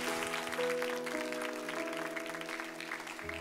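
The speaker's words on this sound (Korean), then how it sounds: "목사님 올라오실 때 가장 큰 박수와 환호로 목사님 맞으시도록 하시겠습니다" A church congregation at a young adults worship service applauds to welcome a pastor to the stage, a steady wash of clapping that runs throughout beneath sustained music.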